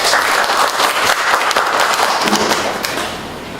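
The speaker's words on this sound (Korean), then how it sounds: "큰 박수 부탁드릴게요" Audience applause at a magazine day event after an emcee introduces a baby-health service company, a dense, steady wash of clapping filling the whole stretch with some heavier thumps, loud and close with no talk over it.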